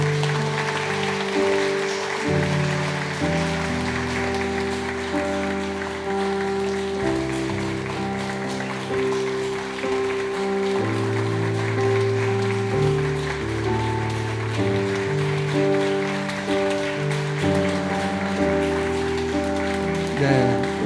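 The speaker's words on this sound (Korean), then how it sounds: "축복의 박수 부탁합니다." Congregation applause at a Sunday church worship service, a steady wash of clapping lasting throughout and blended with sustained instrumental music.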